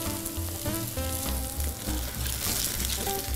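Food frying in a pan with garlic, a sprig of rosemary and salt, a steady close sizzle and crackle running throughout, with no talking.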